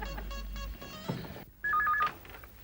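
A telephone gives a short electronic ring tone, a brief two-note trill heard once near the end, clear and close, following a moment of muffled background sound in an indoor scene.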